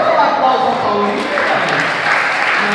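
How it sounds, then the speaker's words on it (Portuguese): A church congregation applauds together in a steady, sustained wash of clapping that fills the room, with voices mixed faintly underneath. "Vamos dar um aplauso ao Paulinho."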